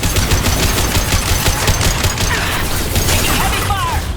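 Heavy, continuous automatic gunfire from Mass Effect 2, a loud rapid stream of shots that keeps going without pause, with a voice briefly heard over it.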